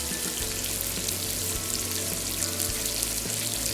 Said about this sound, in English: So the grease will be popping everywhere.